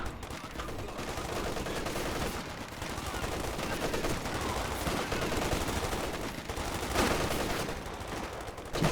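Vet 5 Obersoldaten with LMGs fire in Company of Heroes 2 during a late-game fight against assault sections, long dense bursts of machine-gun fire with scattered gunshots and booms, loud and continuous.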